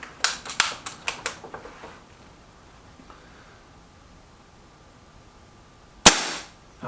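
A Milbro Guardian air rifle fires a quick burst of about six sharp cracks with target hits, followed by near silence, then one more loud close crack.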